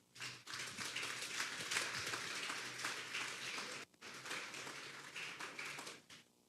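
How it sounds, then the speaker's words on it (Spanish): A church congregation at a Sunday service applauds in a dense, sustained wash of clapping, steady and fairly distant, with a brief dip midway before it carries on. "Vamos a darle un fuerte aplauso al Señor."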